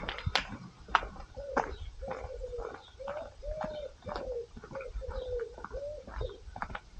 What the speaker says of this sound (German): Tauben haben sie hier, ne?